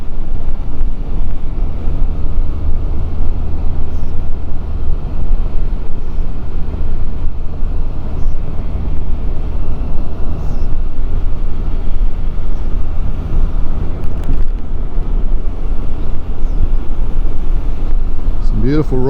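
A Can-Am Spyder three-wheeled motorcycle, its rear shock dead, rides along near Mount Sylvia with a steady engine rumble and heavy wind buffeting, loud and continuous throughout.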